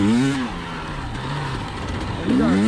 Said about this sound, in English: Let's get a feel for that power valve on the sandy road now. High revs.